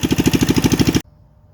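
A Coleman CT200U minibike with a 196cc, 6.5 horsepower engine runs with a loud, rapid, pulsing chug for about a second, then cuts off abruptly into near silence.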